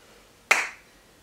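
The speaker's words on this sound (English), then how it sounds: "Now we'll come into a standing crunch with an under the leg clap." A single sharp hand clap beneath a raised leg during a standing crunch exercise, one crisp close snap that decays quickly in a quiet room.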